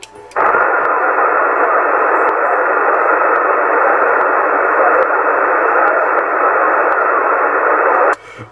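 Loud, steady hiss of static on CB radio channel 27 with another faint two-way conversation buried underneath, ending abruptly after about eight seconds.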